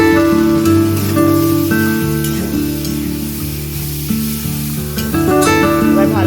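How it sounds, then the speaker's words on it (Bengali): Kashmiri chili stirred in a sizzling pan while cooking bata mach, a steady loud frying hiss with scraping stir strokes throughout, no talking. "এবার ভালো করে জিনিসটাকে নাড়াচাড়া করছে।"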